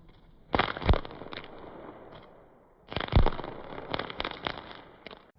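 Two bursts of sharp crackling firecrackers, each a rapid cluster of loud pops with a few scattered bangs after, separated by a short lull.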